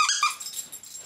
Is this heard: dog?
yes